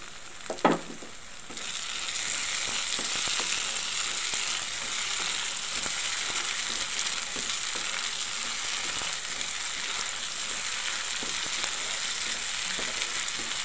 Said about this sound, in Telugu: ఇందులో వేసి వేగించేసుకుందాం